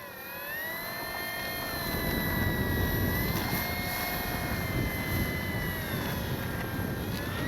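An FMS PC-21 Pilatus RC model airplane comes in to land on a windy day, its electric motor a steady, fairly loud whine with shifting pitch, accompanied by wind rumble throughout and no talking.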